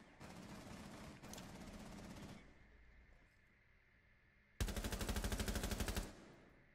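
Loud bursts of rapid gunfire in Rainbow Six Siege, a long stream at the start, then a quieter lull, then another sharp, heavy burst.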